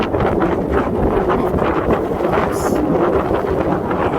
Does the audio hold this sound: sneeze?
no